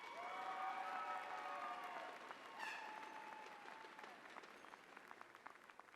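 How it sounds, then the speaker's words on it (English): An audience at a university convocation applauds in a steady wash that slowly fades, with a few cheers rising briefly in the middle before the clapping thins out. "Full round of applause for Deborah."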